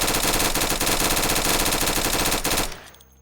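Rapid automatic gunfire from the RDR-99 in a Roblox Chicago game, a loud continuous burst of fast shots that cuts off abruptly near the end.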